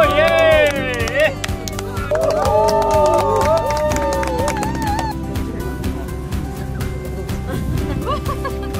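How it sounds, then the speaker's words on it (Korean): A crowd claps and cheers loudly at a cooking event where a 64 kg whole pig is deep-fried in an oversized fryer, with a dense wash of applause and excited voices throughout, plus a brief melodic tone at the start. "와, 박수!"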